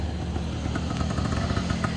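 A Bultaco 350 trials motorcycle, a low-geared trials bike, runs fast with a steady, rough engine drone that stays loud and close throughout, with no talk over it.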